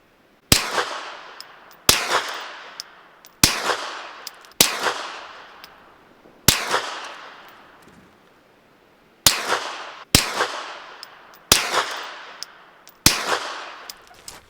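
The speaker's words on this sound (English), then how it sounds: "That's a quick little first look at the Odessa9, shooting it in all the different configurations." Nine suppressed shotgun shots through a Dead Air Odessa-9 suppressor with four baffles, run wet, each a sharp, loud report with a short decaying tail, fired at uneven intervals of one to three seconds with one longer gap midway.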